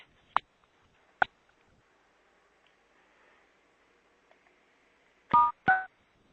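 Touch-tone keypad beeps from a phone on a conference call: two isolated short tones, then a pause with faint background hum, followed by two louder, longer tones in quick succession near the end, with no talking.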